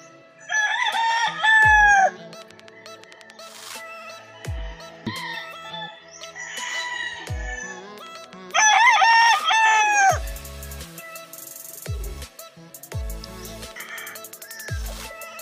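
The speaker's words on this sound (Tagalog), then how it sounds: "Ang daming manok, oh." Several roosters crow loudly and repeatedly, with clucking chickens filling the gaps, like a busy farmyard close by.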